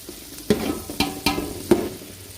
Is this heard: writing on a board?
no